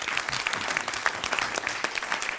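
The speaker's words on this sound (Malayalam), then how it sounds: "മേശിരിക്ക് നല്ലൊരു കയ്യടി." Audience applause on a comedy show, a dense burst of clapping from a seated crowd, steady and moderately loud for a couple of seconds.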